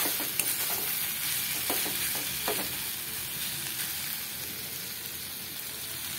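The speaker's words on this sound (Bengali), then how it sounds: "কুমড়োটাকে ভালো করে মশলার সাথে ভেজে নেব।" Pumpkin pieces frying with spices and oil in a pan sizzle steadily while a spatula stirs them, giving soft scraping clicks over a continuous close hiss, with no talking.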